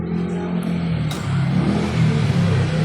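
A Toyota Fortuner engine, freshly rebuilt with work on the fuel filter, timing belt, turbo and EGR, revs with throttle blips, a steady close mechanical drone that swells a little partway through, with no talk.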